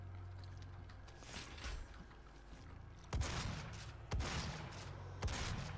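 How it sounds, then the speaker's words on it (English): Three loud, broadband shotgun blasts from the classic DOOM video game, roughly a second apart, cutting through a low droning game background. "Right, let's just use the shotgun."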